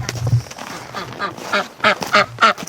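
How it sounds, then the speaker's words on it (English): Wintering ducks quack in quick, overlapping bursts close by as they are let out into minus-12 winter air, the calls growing louder and more frequent toward the end. "So I'm just gonna let the ducks out."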